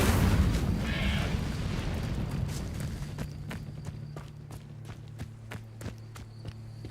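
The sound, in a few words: Incendio fire spell being cast in the video game Hogwarts Legacy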